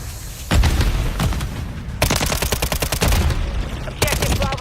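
Rapid bursts of automatic gunfire crackle through a video game shooter match, dense volleys starting and stopping in quick succession with a brief shouted voice mixed in under the loud, near shots.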